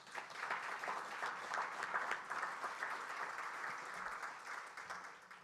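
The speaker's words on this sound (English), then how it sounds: "Let's give him a round of applause" Applause greets the Prime Minister of the Bahamas at the Bahamas Diaspora Independence Awards, a sustained, fairly distant patter of many clapping hands, steady throughout and moderately soft.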